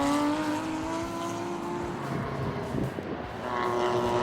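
Improved Production over-two-litre race cars, including a BMW, storming through a turn and over the line, several engines droning and rising in pitch together, loud and continuous without talk.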